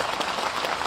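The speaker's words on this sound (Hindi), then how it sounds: "जोरदार तालियों से स्वागत करो" Crowd at an environmental victory gathering breaking into loud applause, a brief dense burst of many hands clapping together.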